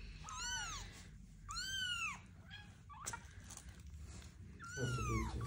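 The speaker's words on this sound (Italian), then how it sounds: "Quanti gatti." Several kittens meow in high, rising-and-falling calls, about four distinct cries spaced across the stretch, fairly close and clear over a low background rumble.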